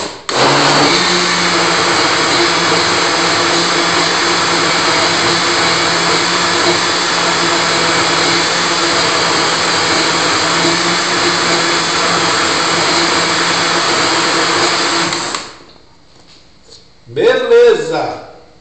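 Strawberries and banana whir in a blender making a smoothie, a loud, steady motor drone lasting about fifteen seconds before cutting off, followed by brief talk.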